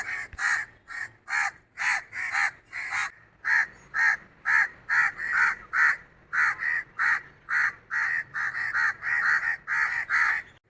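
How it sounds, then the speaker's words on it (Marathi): Two crows caw over and over outside a home in Pune, a steady run of loud, harsh calls, close by, each lasting under a second with short gaps between. "हे दोन कावळे जे आहेत ना, ते आमच्या इथून काय हालतच नाहीत. ते बाहेर जरी आपण आलो तरी काव काव करतच राहतात."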